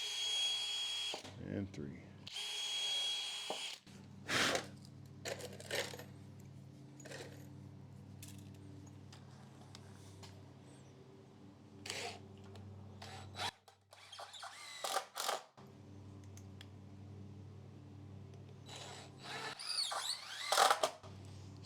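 A power drill drives screws into a converted bus in several short bursts of whirring, separated by quiet stretches of handling noise, with someone speaking briefly between bursts.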